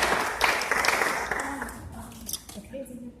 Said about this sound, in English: can we have a round of applause for our volunteers?